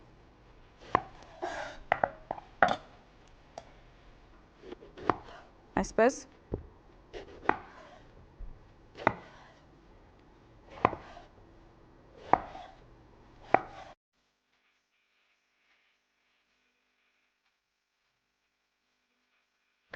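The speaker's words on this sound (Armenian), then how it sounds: "ուրեմն սմբուկները կտրատելու ենք" Eggplants chopped with a knife on a board, a dozen or so crisp, uneven thuds close by over about fourteen seconds, then silence; one brief spoken word.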